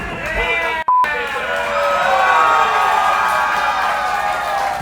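A sold-out wrestling crowd in Fresno, California cheers and shouts loudly and continuously, a roaring, sustained wall of voices with whoops, interrupted by a brief dropout near the start.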